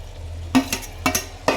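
Tomatoes are stirred into a ghee rice masala with ginger-garlic paste in a pan, with three sharp spoon-against-pot scrapes over a faint background sizzle, close and without speech.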